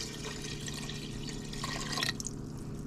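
Water pours into a stock pot of cooked vegetables as a steady splashing, gurgling stream close by, swelling briefly louder near the end without any talking.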